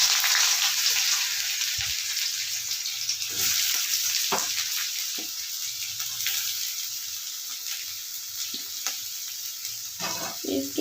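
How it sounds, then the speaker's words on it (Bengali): Onion goes into hot oil with green chillies in a pan, giving a steady crackling sizzle with scattered spatula clicks and stirring knocks. "এবার আমি দিচ্ছি এর মধ্যে পেঁয়াজ"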